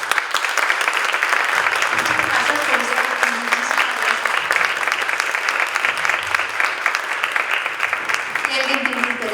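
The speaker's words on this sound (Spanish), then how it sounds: "les pido un fuerte aplauso para ellas" An audience applauds at a book presentation in Lagos de Moreno, Jalisco, with loud, dense, steady clapping that fills the whole stretch and some voices mixed in underneath.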